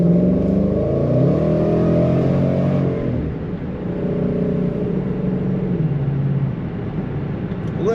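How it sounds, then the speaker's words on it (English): A 2012 Ford Mustang GT with a Roush supercharger idles and revs, a deep loud exhaust rumble with a faint supercharger whine, the pitch rising and then settling into a steady growl. "Really nice rumble coming out the back, as most Mustangs do have. And of course, a little bit of supercharger sound"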